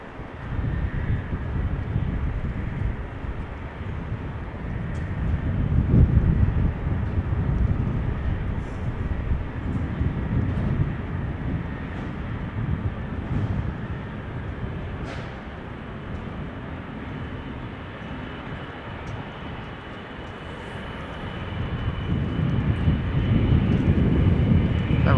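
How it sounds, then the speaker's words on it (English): Business jet landing on runway 22 at Amsterdam Schiphol Airport, a broad engine roar that swells and fades over about twenty-five seconds, heard from a distance with some wind buffeting the microphone. "in the background, BizJets coming and going, runway 22 being used for BizJets. Here one is coming in as we speak."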